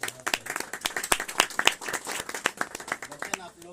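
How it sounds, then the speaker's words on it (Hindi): Church congregation clapping for the pastor at a Hindi-language worship service, a dense run of sharp overlapping hand claps lasting several seconds, steady and fairly loud with no voices heard. "पास्टर जी की ये ताली बजाइए"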